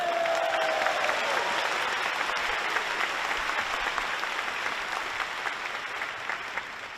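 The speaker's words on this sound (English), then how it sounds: "Everybody give a round of applause to my mom and dad." Large keynote audience at NVIDIA's Computex 2026 event breaks into sustained, dense applause lasting the full stretch, loud and steady with a faint tonal sound near the start, no talk over it.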